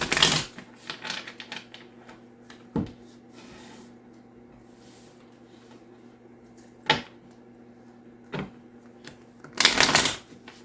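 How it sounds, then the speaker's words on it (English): Tarot cards being shuffled, with quick riffling flurries at the start and end and a few scattered soft card snaps in between, close and otherwise quiet. "Sorry about all the shuffling."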